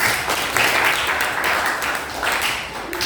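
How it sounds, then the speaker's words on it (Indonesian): Students in a school classroom give a round of applause. The clapping is a continuous, fairly loud wash of many hands that holds steady for the whole stretch, with no talk over it. "Oke, tepuk tangan untuk anak."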